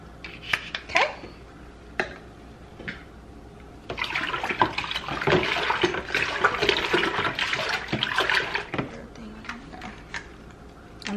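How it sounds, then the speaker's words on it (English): Water from a sink tap runs into a bottle being rinsed out during blue hair dyeing, a steady close splashing rush that starts after a few faint clicks and knocks. "I'm gonna actually take this and run it under the sink in the bottle."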